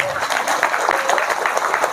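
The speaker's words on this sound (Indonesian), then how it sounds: "Datanglah, tepuk tangan dulu." Audience at an Islamic lecture gathering of a Nahdlatul Ulama community breaks into sustained applause, a dense steady wash of clapping lasting the whole moment without pause.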